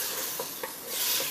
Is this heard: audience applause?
no